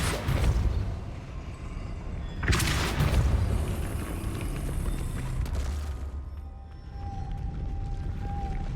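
A Depulso force spell cast in Hogwarts Legacy, heard as a deep booming blast and rush followed by a lingering rumble, with a second surge and a fading tonal hum near the end.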